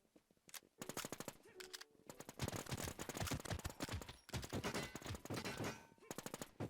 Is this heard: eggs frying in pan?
no